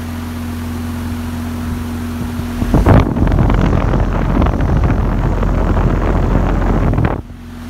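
A 2018 Goodman 4-ton straight-cool air conditioner condensing unit, model GSX14048, starting up in cool mode: a loud thump, then a steady, powerful fan roar and whoosh close by that cuts out near the end.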